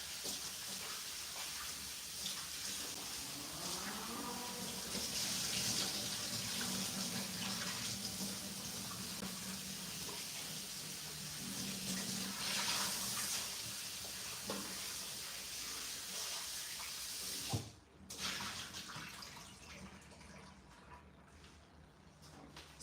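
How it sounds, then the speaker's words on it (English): Tap water runs steadily into a kitchen sink while raw meat is rinsed beneath it, a soft continuous splashing hiss with slight shifts as the flow hits the meat, then a brief dip near the end. "I'm gonna rinse the meat."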